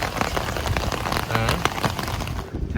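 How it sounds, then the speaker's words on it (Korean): Sudden heavy downpour on a hot summer day, a dense, steady hiss of rain hitting surfaces close by, with scattered heavier drops and no talk. "갑자기 미친듯이 지금 폭우가 내리고 있습니다"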